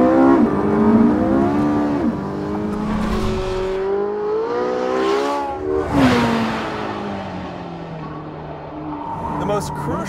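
A 2015 Porsche 918 Spyder in full race mode revs and shifts through the gears, the engine note climbing and dropping as it accelerates, with someone talking over it.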